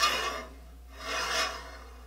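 A file sharpening a hand saw clamped in a saw vise makes two slow, close rasping strokes with a brief quiet gap between them.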